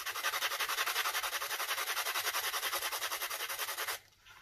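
Resin dominoes being sanded by hand along their raised edges, a steady rhythmic back-and-forth rasp of close, even strokes that stops abruptly near the end.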